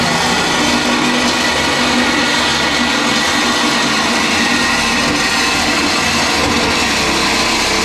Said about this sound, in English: 2 days in, already taking the Sawzall to it.